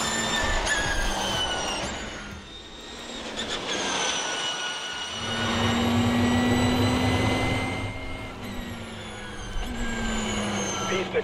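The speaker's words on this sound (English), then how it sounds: "The engine noise is different, but still you can hear." A Formula E electric race car on a test drive whines past with a rising and falling electric motor tone, loud and close, over rushing track and wind noise, while people talk.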